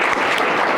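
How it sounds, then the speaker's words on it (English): An audience at a company celebration claps for a staff member, a brief, loud, continuous wash of applause. "Must clap for you."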